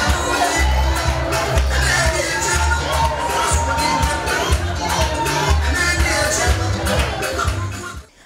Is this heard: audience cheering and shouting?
yes